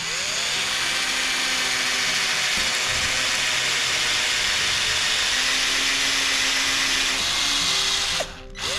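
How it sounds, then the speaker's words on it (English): A power drill pre-drilling a hole through a wooden headboard, a loud sustained whine that shifts in pitch as the bit bores through, stopping abruptly near the end. "I'm pre-drilling my hole all the way through"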